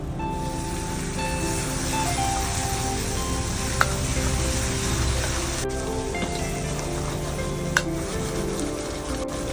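Chopped onions sautéing in a pan with ginger-garlic paste give off a steady, close sizzle and crackle that runs unbroken from start to finish, with a couple of faint utensil clinks and no voices.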